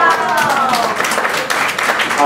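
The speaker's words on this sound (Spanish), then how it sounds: "un aplauso" An audience at a spiritual lecture gives brief, dense clapping close by, with voices talking over it.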